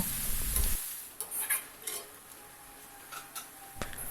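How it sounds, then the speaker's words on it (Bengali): Ground turmeric and cumin sizzling in a pan as a spoon stirs them, with scraping strokes and brief clinks of metal at intervals, close and moderately quiet. "এবার এই মশলাগুলি দিয়ে আরও কয়েক মিনিট কষিয়ে নেব"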